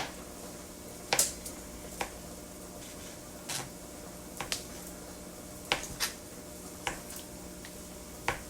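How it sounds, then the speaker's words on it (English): A knife rough chopping raw chicken with skin on a cutting board for soup: a dozen or so irregular, sharp taps spaced unevenly, close but soft over a quiet room. "Just rough chopping this."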